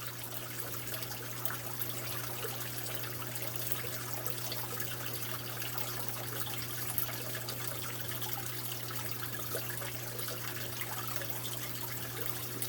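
Constant soft rush of water running from a hose and splashing into a brackish aquarium, steady throughout with a low hum underneath.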